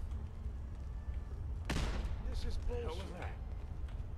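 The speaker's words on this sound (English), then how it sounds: "I'm gonna try to throw a grenade" A grenade blast in Fallout 4 on PC: one sudden, loud, sharp boom partway through, with a short rumbling tail over steady game ambience. Faint voice-like sounds follow.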